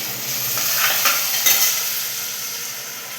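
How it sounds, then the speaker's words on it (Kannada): Tomato paste fries in a pan for tomato biryani with a constant hissing sizzle and a few soft stirring scrapes early on. No voice is heard. "ಚೆನ್ನಾಗಿ ಫ್ರೈ ಮಾಡಿ ಹಸಿ ಸ್ಮೆಲ್ ಹೋಗುವ ತನಕ."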